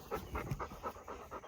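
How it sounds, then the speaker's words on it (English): A dog panting nearby in a garden with a high tunnel, rapid rhythmic breaths of about seven pulses in quick succession, soft and close with no talking. "Y'all know wherever I am, that's where the dogs are."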